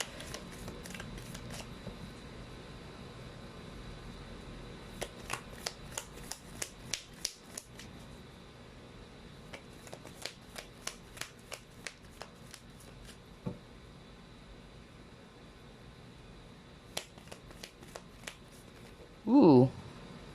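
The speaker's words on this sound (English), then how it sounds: "This deck is hard to shuffle because it's hexagonal in shape." A hexagonal deck of cards is shuffled by hand in quiet bursts of sharp riffling clicks and snaps, irregular and spread out, with soft background noise and a brief louder rustle at the end.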